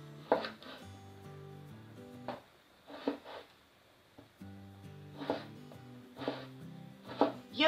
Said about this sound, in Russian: Также небольшими кубиками мы режем помидор.